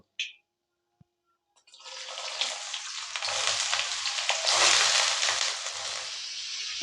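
Chopped potatoes drop into hot oil tempered with five-spice for aloo khasta kochuri, bursting into a loud, steady sizzle after a couple of soft clicks, close up with no talking.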